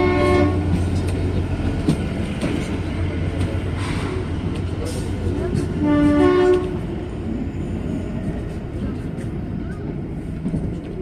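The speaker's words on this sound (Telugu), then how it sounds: "ట్రైన్ ఉంది ముందు." The Kalka–Shimla toy train rumbles and clatters along throughout, with a loud horn blast sounding briefly past the midpoint before the rolling noise continues.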